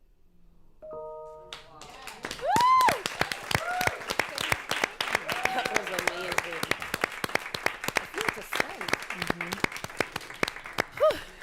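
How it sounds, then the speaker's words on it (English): An audience applauds after a poem reading, scattered close hand claps continuing steadily beneath several people talking and reacting, with a few short tones near the start. "I want to keep clapping."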